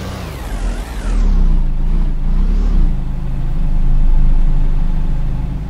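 A car engine in a town-rebuilding video game drones steadily, swelling and easing as it drives, with a whining rise in pitch early on and a continuous low rumble throughout.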